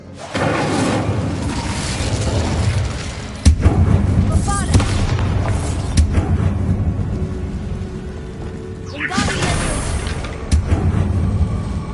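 The Incendio fire spell is cast in Hogwarts Legacy on PS5, a loud burst of whooshing, crackling flame with a heavy boom partway through and a rising magical sweep later, over a steady game backdrop.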